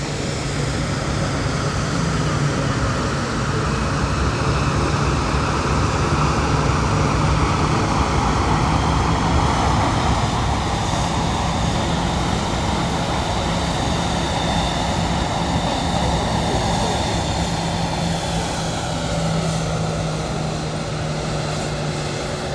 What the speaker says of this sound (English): EasyJet A320 Neo coming in from Amsterdam